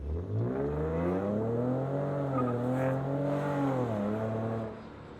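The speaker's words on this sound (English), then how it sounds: "that was like about a half throttle pull, or about like half on the gas pedal" A car exhaust with a Fast Intentions catback and test pipes drones as the engine pulls at about half throttle, pitch rising steadily then easing, close and loud with no talking.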